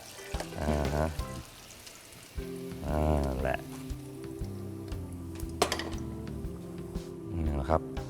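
Fried fish with chestnuts, cooked over high heat with the flame just turned off, crackles softly as it is poured from the pan, the faint sizzle running beneath someone talking.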